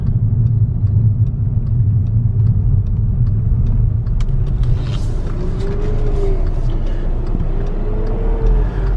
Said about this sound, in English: Turbo's definitely working. I can hear it.